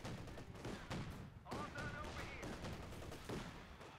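Machine gun fire from 1919 LMGs and mortar fire from a half-track in a live-cast video game battle, as a steady stream of rapid shots and dull thumps, fairly faint, with a commentator talking over it.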